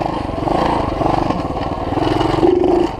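A worn, poorly running dirt bike engine revs loudly and steadily close by, then bogs down and cuts out at the end; no talking is heard.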